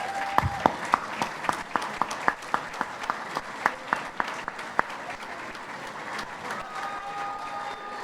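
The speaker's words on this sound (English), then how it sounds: "please rise to get a round of applause" Audience applause for first responders at an event, a steady run of distinct individual claps heard against a diffuse crowd, moderately close, tapering off after several seconds.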